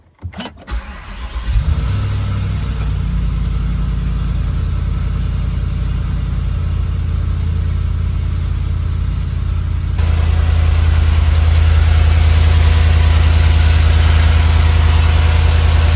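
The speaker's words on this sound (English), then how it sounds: "Run the engine for a few minutes and then let it sit for 5 to 10 minutes." A Volvo S80 V8 engine starts after an oil and filter service and settles into a steady, loud idle, a continuous low rumble that grows slightly heavier partway through.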